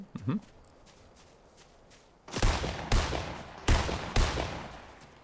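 Gunfire in the video game Fortnite: several loud, sharp shots with echoing tails, spaced about a second apart, following a quieter stretch of faint footsteps and shuffling.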